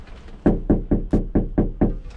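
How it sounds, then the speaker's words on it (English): Knuckles rap on a house door during a DoorDash delivery: eight firm, evenly spaced knocks, close and loud, with nothing else heard. "Knocking that door off."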